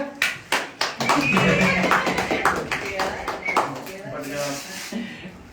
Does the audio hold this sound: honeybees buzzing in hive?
no